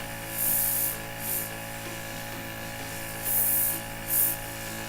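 An airbrush spraying black Dinair makeup onto a face gives four short, close hissing bursts over a steady background hum, with no talk.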